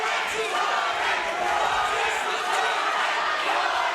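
Loud, steady roar of a fight crowd cheering and shouting at a SteelFist 96 MMA event during the Kauai Thompson vs Jordan Gonzalez bout, continuous and dense with no clear pauses.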